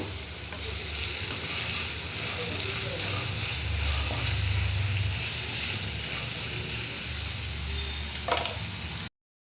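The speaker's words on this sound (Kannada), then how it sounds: "ಸ್ವಲ್ಪ ಈ ಥರ ಫ್ರೈ ಮಾಡಿ ಈರುಳ್ಳಿ ಬೇಗ ಫ್ರೈ ಆಗಬೇಕಂದ್ರೆ ಸ್ವಲ್ಪ ಉಪ್ಪನ್ನ ಈ ಥರ ಹಾಕಿ ಫ್ರೈ ಮಾಡ್ಕೊಳ್ಬೇಕು" Onions with salt frying in a pan before chicken liver goes in: a loud, steady sizzle close by with occasional scraping stirs and a brief clink near the end, then sudden silence.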